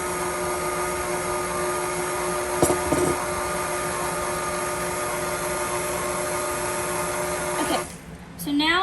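Stand mixer steadily whirring as it mixes chewy oatmeal cookie dough, a constant motor drone with a brief knock near the middle before it stops near the end.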